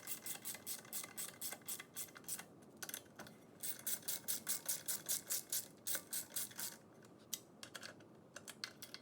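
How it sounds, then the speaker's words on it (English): A socket wrench ratchets a bolt into a Honda GC160 engine crankcase, giving rapid, evenly spaced clicking bursts in repeated runs with short pauses, fairly quiet and close, with no talking. "Once you have the bolt started, put a socket wrench on there."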